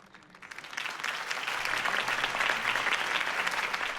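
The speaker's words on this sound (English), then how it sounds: "could have heard that applause" Sustained applause from a crowd in a video game, starting softer and swelling quickly into steady, dense clapping that holds for several seconds.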